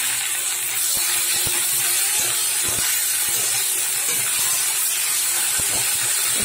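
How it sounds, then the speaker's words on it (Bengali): Ginger-garlic paste frying with browned onion in a hot pan gives off a loud, continuous hiss, with scattered sharp clicks and taps from stirring, close up and without voices. "একটু নাড়িয়ে নিচ্ছি আদা রসুনটা পেঁয়াজের সাথে"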